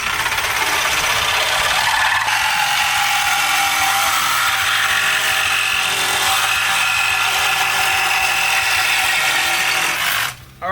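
A Sawzall reciprocating saw cuts through truck frame metal in a workshop, a loud, continuous buzzing rasp held steadily at close range before cutting off at the end.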